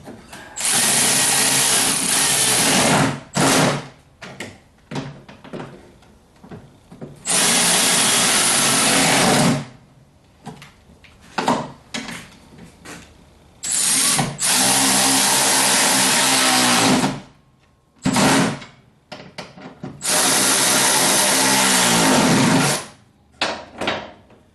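Power tool tightening the fasteners on a rocker panel during a 1976 Corvette restomod, running in several loud bursts of a few seconds each with short gaps and quieter clatter of parts between them, and no talking.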